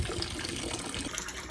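Water drains out of a goldfish tank in a steady, close gushing trickle that runs unbroken, with no talking over it.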